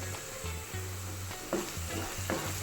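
Sliced onions with salt fry gently in a pan, a soft continuous sizzle close by, broken by a couple of brief spoon-stirring scrapes.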